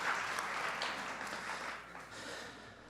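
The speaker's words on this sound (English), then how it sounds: "Let's have a round of applause for Ms. Beverly Ivy" An audience at a mayoral candidates' forum applauds an event organizer with a continuous, moderately loud patter of clapping that slowly fades over a few seconds.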